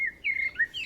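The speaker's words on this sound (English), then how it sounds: "I hear the birds sing," Small birds chirping outdoors on a clear spring day, a few bright high tweets in quick succession, close and distinct with no other sounds around them.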